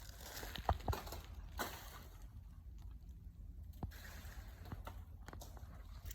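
Winter creek flowing outdoors, a soft continuous trickle and slosh of water, fairly faint, with a few sharp small knocks and no talking.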